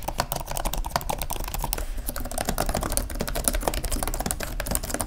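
Steady, fast typing on the keyboard of a ThinkPad X1 Extreme Gen 4 laptop, with shallow key travel and thin keycaps, giving dense close-up clicks and clacks throughout with no talking.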